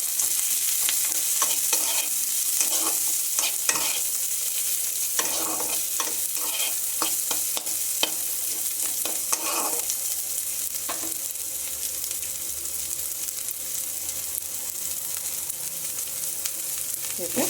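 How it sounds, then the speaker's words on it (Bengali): Onions and green chilies frying with fish in a pan in a Bengali home kitchen, a steady close sizzle with repeated scraping stirs of the spatula throughout, no talking. "পেঁয়াজ কাঁচা লঙ্কাগুলো এর সাথে ভেজে নেব।"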